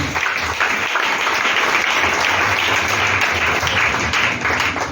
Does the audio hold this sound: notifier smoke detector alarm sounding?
no